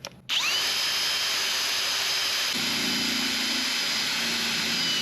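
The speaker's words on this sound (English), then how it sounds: "Luckily, I still have the wire brush for my drill right here." A power drill with a wire brush whirs loudly and steadily, its pitch dropping slightly as the brush grinds rust off metal wire, continuous for several seconds.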